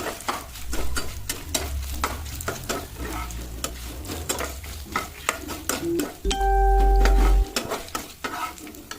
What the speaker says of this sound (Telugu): అలాగే కొంచెం కరివేపాకు వేసుకొని ఫ్రై చేసుకోవాలి, మళ్ళీ మాడిపోకుండా చేసుకోవాలి